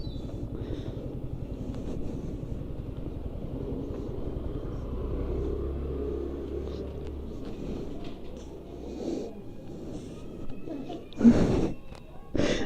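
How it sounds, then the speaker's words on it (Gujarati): A car idles and creeps into a parking spot with a low, steady engine rumble, followed by faint clunks and handling noises as it comes to rest. "ગાડી આપણે પાર્ક કરી દઈએ"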